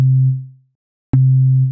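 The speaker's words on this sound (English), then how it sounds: "Let's stick to just a normal sine wave for now." Synthesized 808 kick built from a plain sine wave with a harmonic or two: a deep sustained tone that fades out, then after a short gap another identical low tone starts abruptly and holds before cutting off, clean and loud.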